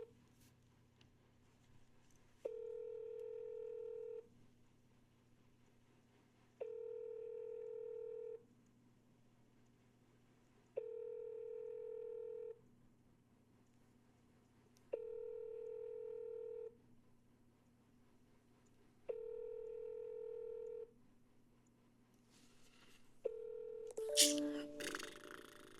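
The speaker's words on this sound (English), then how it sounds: "Come on, Sharon, pick up the phone and say yes." Repeated telephone dial tones during a cold call, about five evenly spaced bursts of roughly two seconds each with short gaps, fairly loud and clear over a low background hum, with a brief burst of other noise at the end.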